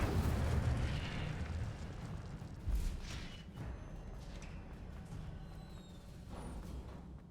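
An Incendio fire spell cast in Hogwarts Legacy produces a loud, rumbling whoosh of flame with a deep burst near the start and a second swell partway through, then a fading roar.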